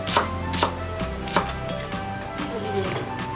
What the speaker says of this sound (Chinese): 大葱一条，切成颗后备用。